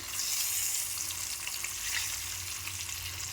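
Boiled eggs fry in hot oil in a pan, giving a steady, close sizzle that holds evenly from start to finish with no talking.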